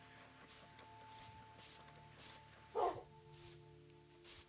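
A Minecraft wolf lets out one quiet bark midway through a series of evenly spaced, soft hissing footsteps over a low steady hum.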